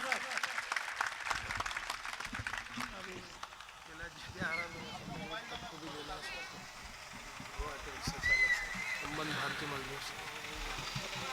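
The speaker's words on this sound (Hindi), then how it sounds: "जोरदार तालियों से माननीय सांसद जी का स्वागत।" Audience applause welcoming a member of parliament at an auto-rickshaw drivers' union event, with dense sustained clapping and someone talking over it, plus some vehicle noise in the background.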